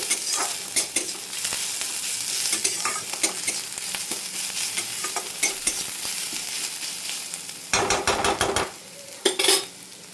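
Chopped garlic and onion sizzle in a pan for a dried-fish chorchori, a steady close fry broken by repeated scraping stirs and a few sharp clatters of the spatula against the metal.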